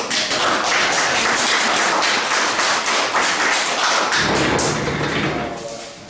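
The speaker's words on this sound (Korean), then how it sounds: "박수 소리가 작습니다. 세게 해요." Louder renewed applause from an audience of teachers at an education lecture, sustained dense clapping of many hands throughout, tapering off toward the end.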